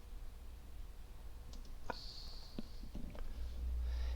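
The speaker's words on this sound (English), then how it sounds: "So we'll right click it, save image as" A computer mouse clicking at a desk: a few sharp, close single clicks spaced apart over quiet room hum, with a faint electronic tone in between.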